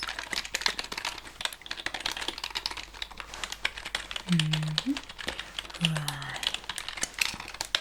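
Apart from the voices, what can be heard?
typing on a computer keyboard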